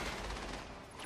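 A quick burst of gunfire in the Mass Effect video game, faint and dense, lasting only about a second with no voices.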